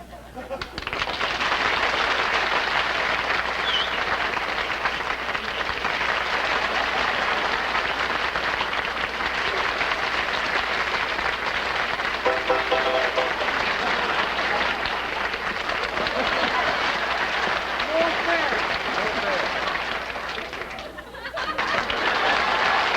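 A studio audience at a variety show gives a long, loud wall of applause that holds steady for about twenty seconds, with faint laughter mixed in, then dips briefly near the end before swelling again.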